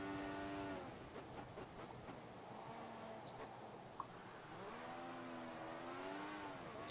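Formula 1 car in the F1 2014 video game at Sepang during qualifying, its engine rising in pitch then dropping with early gear shifts, heard faintly under quiet talk.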